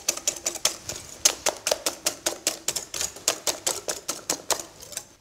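Coconut macaroon mixture of sugar, vanilla and corn flour being whisked in a bowl: a steady run of sharp, evenly spaced clicks and scrapes as the whisk strikes the sides, close and fairly loud with no talking.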